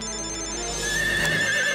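A mobile phone rings in a cartoon scene at a horse stable, giving a steady electronic ringtone with sustained tonal notes. The ring is fairly loud and a faint horse whinny sits beneath it.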